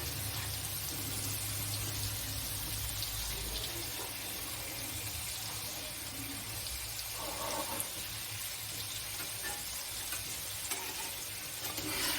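Mackerel fries in a pan, giving a steady, dense sizzle and crackle that runs unbroken throughout at close range, with a faint rain-like wash behind it.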